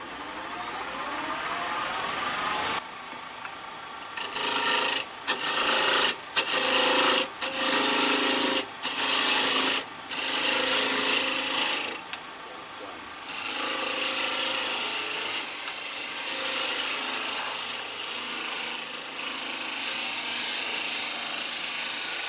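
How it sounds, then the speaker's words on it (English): A roughing gouge cuts into a spinning wood workpiece on a lathe, making a continuous abrasive hiss that breaks into rhythmic bursts as the tool catches and lifts, then settles back into a steady rasp. "Time to have some fun with the roughing gouge."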